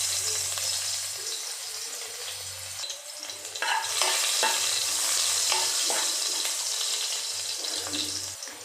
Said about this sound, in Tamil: கொஞ்சம் பூண்டு இடித்து வச்சுருக்கேன். இப்போ நம்ம அதை சேர்த்துக்கலாம்.